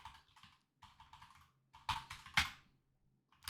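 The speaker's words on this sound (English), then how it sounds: "If I can type." Bursts of computer keyboard typing, clustered key clicks with short pauses and a couple of louder strokes, close and alone without talk.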